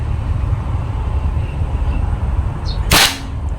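A single sharp gunshot at a 25-yard shooting challenge rings out near the end over steady outdoor background noise, loud and abrupt, with no talk.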